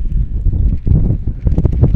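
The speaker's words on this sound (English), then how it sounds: "Never seen a day quite as windy as today." Strong wind at an outdoor baseball game, buffeting the microphone with loud, gusty low rumbles that surge and fall throughout.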